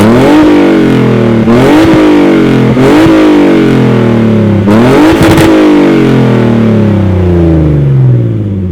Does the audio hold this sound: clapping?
no